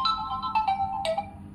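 A Realme Narzo 50A Prime phone plays its "Twin Clamp" ringtone, a bright melodic run of electronic tones with short notes that rise and fall, heard clearly on its own with no talking.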